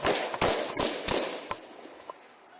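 Several sharp pistol gunshots crack in quick succession, loud and close, followed by a couple of fainter pops further off.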